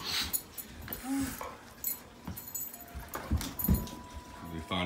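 A Doberman plays with a basketball indoors, giving a few dull thuds and soft snorts and whimpers, while people talk over most of the scene.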